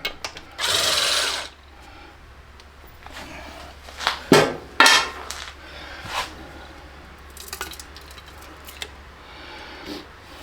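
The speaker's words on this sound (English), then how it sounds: "we're gonna pop these other couple bolts out of here" A power tool whirs in one sustained burst and then a few short bursts while bolts are removed from a pulling tractor, with clanks and quieter handling noises between, fairly close in a quiet shop.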